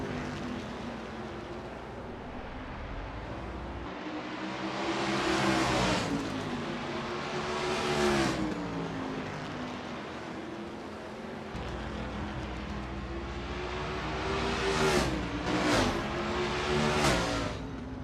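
A 1989 Camaro Z28 IMSA GTO race car from a racing video game laps North Wilkesboro, its V8 engine roaring and pitching up through gears, fading on the turns and swelling again, with sharp rising revs near the end.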